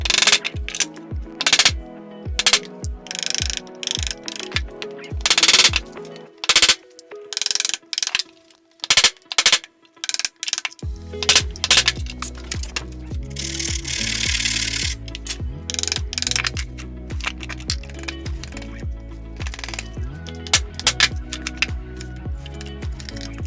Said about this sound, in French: Là, j'utiliserai mon ciseau à bois de 30 car c'est celui qui est le plus large dans ma collection de ciseaux à bois.